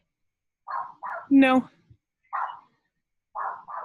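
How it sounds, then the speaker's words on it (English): A neighbor's dog barks in short sharp bursts, mostly in quick pairs, fairly close by, with a brief spoken word in the middle. "That is my neighbor's dog."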